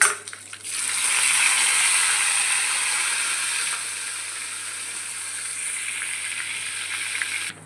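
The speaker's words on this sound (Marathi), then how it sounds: "त्यामध्ये आता मी जिरं मोहरी आणि मिरची आणि कढीपत्ता टाकून घेत आहे" Cumin, mustard seeds, green chili and curry leaves dropped into hot oil in the same pan used for roasting tomatoes, a loud sudden burst of sizzling that settles into a steady frying hiss.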